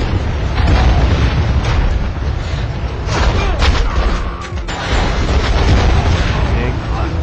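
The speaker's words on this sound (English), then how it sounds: "Grenade." In SpyHunter: Nowhere to Run, a grenade goes off with a loud, rumbling boom under a dense roar of game noise and scattered sharp impacts, with a voice talking over the din.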